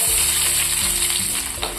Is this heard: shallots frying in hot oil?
yes